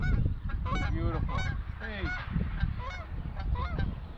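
Geese honk on a golf course, a busy overlapping chorus of loud nasal calls that runs without a break, with no talk over it.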